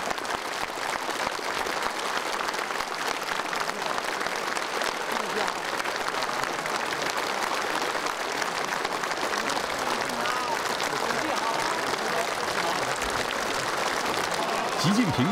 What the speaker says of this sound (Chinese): 全场响起长时间的热烈掌声